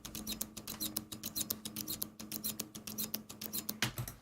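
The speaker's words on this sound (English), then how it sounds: "So I have this pen click groove." A pen clicks over and over in a quick, even rhythmic groove, close and crisp, with a faint hum of background noise underneath.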